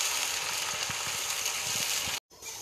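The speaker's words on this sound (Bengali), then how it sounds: "এবার এই তেলের মধ্যে কেটে রাখা পেঁয়াজগুলো সব ছেড়ে দিচ্ছি।" Chopped onions fry in hot oil with a loud, steady, crackling sizzle close up, broken by a brief sudden cutoff near the end.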